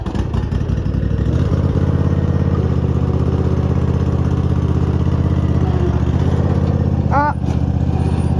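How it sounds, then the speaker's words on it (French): A small lawn mower engine runs outdoors in a steady, loud, close drone that holds throughout, with a brief voice cutting in near the end. "Il y a la petite tondeuse là."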